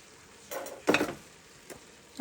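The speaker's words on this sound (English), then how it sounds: "we're going to stir that in together and let that heat up a little bit" Homemade pasta sauce being stirred in a pan: two short scraping, sloshing strokes close by, the second louder and longer, then a faint tap, with no talking.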